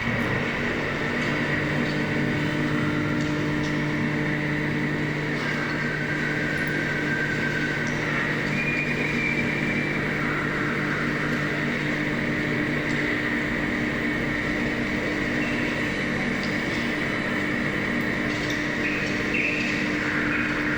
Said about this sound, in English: So what you're hearing are infrasounds, ultrasound, sounds below the ground, sounds very close to.